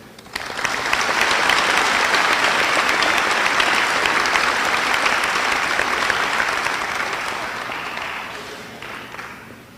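A crowd at a Veterans Day program in Clinton claps for the veterans on stage, the loud applause swelling quickly, holding steady for several seconds, then tapering off.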